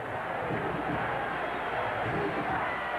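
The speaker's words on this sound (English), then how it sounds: "Miami crowd chanting defense." Steady roar of a Miami stadium crowd chanting defense at a 1980 college football game against Florida State, a dense, continuous wash of many voices at even loudness throughout.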